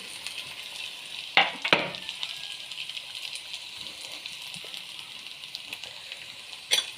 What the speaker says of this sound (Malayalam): എന്നിട്ട് ഇങ്ങനെ ഇളക്കി ഇളക്കി ഇളക്കി കൊടുക്കാം നമുക്കിതിനകത്തോട്ട്